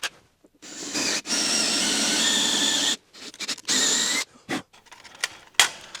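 A drill enlarges a hole to 1/4 inch in the aluminum body of a meat slicer, with a couple of sustained whirring bursts of about two seconds each, followed by short stop-start spurts and quiet gaps between them.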